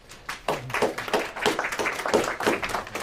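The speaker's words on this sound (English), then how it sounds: "I haven't done anything yet. Don't applaud." An audience at a university lecture on vampires in film and television claps to welcome the speaker, with individual claps close and distinct in a loose, uneven rhythm.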